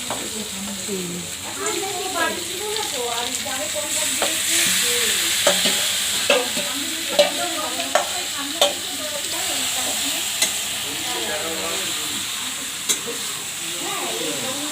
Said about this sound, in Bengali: আলুটা দিলাম মাংসতে, এই যে চিকেন কষা হচ্ছে।